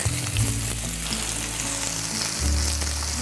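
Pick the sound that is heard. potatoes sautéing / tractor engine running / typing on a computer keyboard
potatoes sautéing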